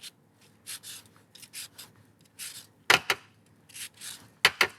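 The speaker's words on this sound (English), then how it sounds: "Grab a lemon. Okay. Zest it first." Lemon peel rasped across a zester in short repeated strokes, close and crisp, each pass a brief scratchy burst with a couple of sharper knocks in between and no talk over it.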